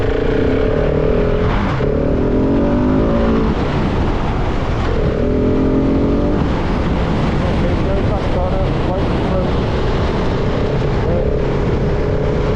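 A 2026 KTM 690 Enduro motorcycle runs through practice drills on the moors. Its engine drops off under braking, then climbs again in repeated throttle surges, close and loud under steady wind buffeting.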